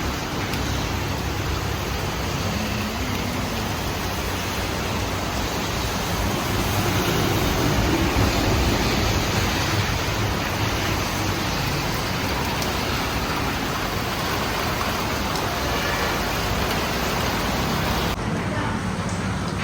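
Heavy rain pours steadily for the whole stretch, a dense even hiss of drops hitting surfaces close by, with faint voices in the background.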